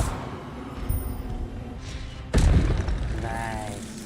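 A spell-casting effect from the Hogwarts Legacy video game erupts in a sudden booming burst about halfway through, over quieter game ambience, and rising musical tones follow as the burst fades.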